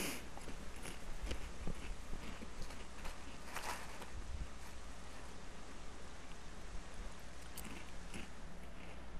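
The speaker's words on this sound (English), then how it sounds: "Very crunchy lobster." Crunchy chewing and biting as a lobster is eaten in The Legend of Zelda: The Wind Waker, with irregular crisp crunches throughout over a steady noisy background and no talking.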